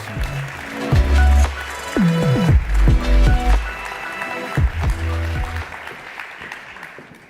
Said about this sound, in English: Please offer him a round of applause